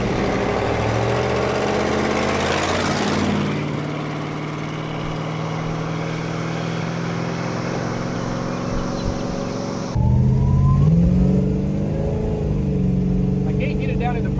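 A 1971 Plymouth Roadrunner engine rumbles loudly while driving, its drone rising and falling as revs change, with a shift and fresh acceleration partway through; someone talks over it at times.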